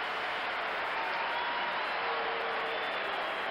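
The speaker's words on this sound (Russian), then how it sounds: "вы видите уже овации совсем другие в Мэдисон Сквер Гардене" A Madison Square Garden crowd gives a steady, roaring ovation for the New York Rangers before their 1975–76 Super Series ice hockey game against CSKA Moscow, heard as a dense, unbroken wash of applause on a hissy old tape recording.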